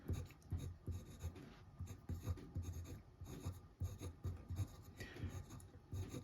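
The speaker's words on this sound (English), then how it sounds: "So let's just do a quick writing sample to see how it goes." A Conklin Duragraph Amber fountain pen with a medium steel nib writing on paper, with close, quiet scratchy strokes in quick irregular bursts.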